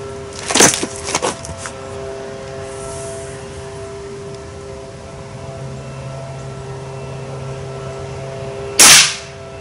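Rifle shots fired at a target, heavier 10.6 grain load: a cluster of sharp cracks early on, then one loud, close report near the end, over a steady background hum.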